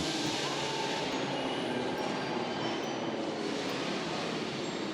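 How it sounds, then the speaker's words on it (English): A train passing in the video game Happyhills Homicide 2, a steady, loud broadband rumble with rolling rail clatter that holds constant throughout, with no talk. "Ah, the train."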